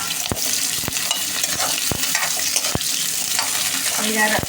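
Onions, garlic, chillies and ginger fry in a pan with a loud continuous sizzle, broken by regular scraping strokes of a spoon stirring them.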